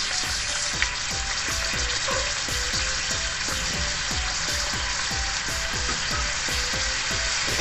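Pork lechon sisig sizzles steadily and loudly in a hot pan while a utensil stirs it in quick, regular scraping strokes, close up and with no talking.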